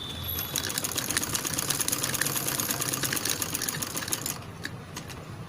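A sewing machine stitches fabric for a child's long party dress, a loud, fast, even mechanical chatter running steadily for about four seconds before slowing and stopping, heard close with no voices.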